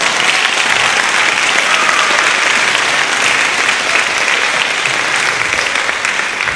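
Audience in a school auditorium applauding a symphonic band at a spring concert, dense sustained clapping throughout.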